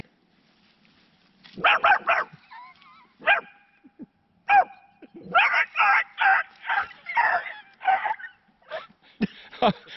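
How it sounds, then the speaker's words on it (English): A dog barks near an old colonial site in rural country, in loud, closely spaced bursts of barks and yips that start after a quiet opening and come in irregular clusters. "where'd that dog come from?"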